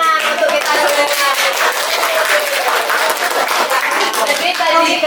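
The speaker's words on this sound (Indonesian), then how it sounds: "Beri tepuk tangan untuk kita semua" Students clapping together in a classroom, a loud and dense burst of many hands that carries on steadily throughout, with children's voices and chatter mixed in underneath.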